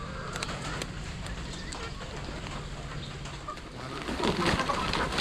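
Darag chickens cluck and scratch around on a farm, with scattered clucks and a burst of flapping and rustling toward the end, over steady outdoor background noise.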